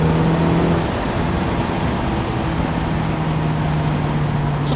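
A car engine pulls steadily through third gear, with a continuous drone and faint road noise at close range.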